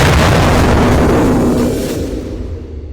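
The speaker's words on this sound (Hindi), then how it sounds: "कई इलाकों में लगातार धमाकों की आवाज सुनी गई" Heavy explosions from missile and air strikes roar in a dense, loud rumble that swells and then slowly fades away.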